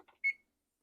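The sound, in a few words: kitchen timer being set for 30 minutes, beeping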